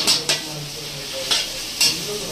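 A big wok of food sizzles steadily while a utensil stirs it, with several sharp scraping strokes at irregular intervals standing out above the constant frying hiss.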